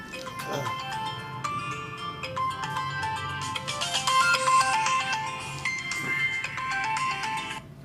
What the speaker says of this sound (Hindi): यही एक फ़ोन आ गया सर, एक मिनट आपका कॉल